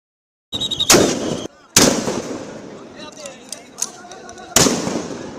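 Police sound grenades and tear gas shells bursting at protesters: three sharp, loud blasts with crackling decay, separated by noisy street ambience and scattered smaller pops.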